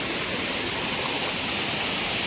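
A waterfall pours down a rocky course, a steady, even hiss of falling and rushing water at moderate distance, unbroken for the short stretch with no voices.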